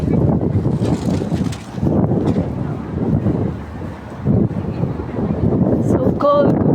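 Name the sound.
wind at the harbor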